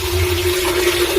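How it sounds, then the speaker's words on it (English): Leftover boiled water from a jar is poured into a pot of brown pilau, a steady continuous splashing stream heard close and alone. "I'm now going to go ahead and add my water in."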